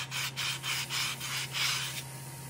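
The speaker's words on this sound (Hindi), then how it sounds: "ये दोस्तों चारों तरफ से बराबर घिसना है एकदम प्लेन" A Bajaj Discover motorcycle engine part is rubbed flat against an abrasive surface in steady back-and-forth strokes, a rhythmic scratchy grinding of about six passes that ends in a low hum.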